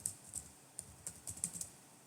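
Quick bursts of typing on a computer keyboard, about eight light clicks in irregular clusters, close and fairly quiet with no talking.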